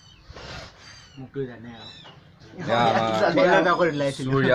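A cat gives a few short meows near the start, then people talk loudly over the rest, drowning out any further sounds from the cat.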